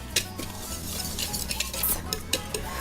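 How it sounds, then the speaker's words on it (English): A whisk stirs gluten-free flour mix and baking powder in a bowl, giving continuous scraping and light clinking against the bowl's sides, steady and close up with no talking. "So 2 teaspoons of the baking powder, and whisk all these together."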